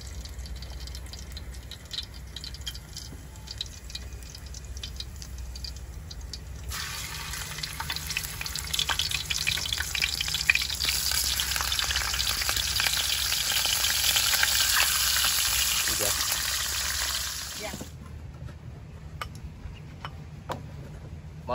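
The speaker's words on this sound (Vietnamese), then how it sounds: "Chiên cá sồng cơm trưa." Scad fish fry in a pan for lunch, giving a steady crackling sizzle that swells louder in the middle and then drops away abruptly, heard alone and fairly close.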